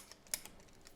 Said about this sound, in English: Makes a cool clicking noise.